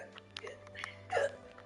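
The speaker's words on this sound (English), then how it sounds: "Got the hiccups." A single sharp hiccup sounds close and fairly quiet, with brief faint voice sounds around it.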